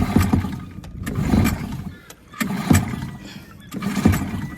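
Someone repeatedly yanks the starter cord of a primed two-stroke sailboat engine. About four rhythmic, rasping pulls sound close and loud, and the motor does not catch.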